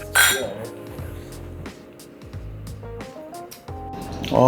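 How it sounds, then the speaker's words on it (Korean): Glasses of bourbon clink together in a toast, a few bright short chimes ringing out over a background of people talking. "건배 한번 하시죠."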